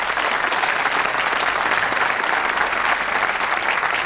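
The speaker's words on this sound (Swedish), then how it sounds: "En stor applåd för Lasse." A televised Swedish dance-band song contest audience applauds the jury chairman, a steady, dense wash of clapping held at full strength throughout, with no voices over it.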